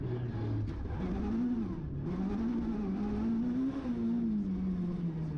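Onboard engine of a Class B rally car on a circuit rally stage at Cadwell Park: a loud, continuous drone whose pitch rises and falls steadily as the driver works through the gears and corners.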